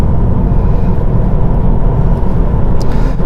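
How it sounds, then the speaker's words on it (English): A car accelerating out of an opening corner during an advanced demonstration drive, with a steady, loud engine drone and road rumble heard from inside the cabin and no break in the sound. "as the corner opens up, we'll press the accelerator and accelerate towards and accelerate away"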